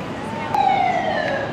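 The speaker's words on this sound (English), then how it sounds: "Sound of the police, sirens everywhere." A police siren wails on a busy Boston city street, a single gliding tone sweeping slowly downward over a steady bed of traffic noise, moderately distant.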